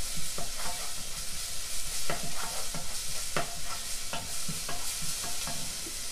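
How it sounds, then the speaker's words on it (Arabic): Garlic, onion and spices frying in oil for an Iraqi tomato sauce for stuffed eggplant, with a steady close sizzle and repeated scraping clicks of a spoon stirring the pan, no talk. "راح أحمس الثوم والبصل والبهارات بالزيت"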